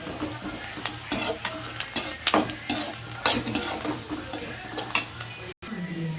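Onions sautéing in oil with curry leaves, with a steady low sizzle and repeated scraping, clinking stirs of a utensil against the pan, close and fairly loud, and no talking.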